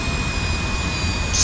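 Jet engine of an F-86F Sabre in the DCS World flight simulator, a steady low rumble with a thin high whine, rising into a louder hissing surge at the very end.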